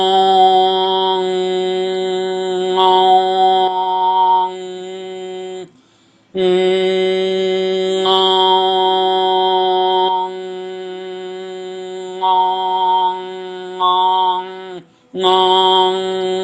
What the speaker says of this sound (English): I'm going to go back and forth between toning and overtoning so you can clearly hear the difference.